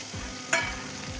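A tomato goes into a hot pan of spice paste for Maharashtrian masale bhat, giving one short, sharp sizzle burst over a low, steady background hiss.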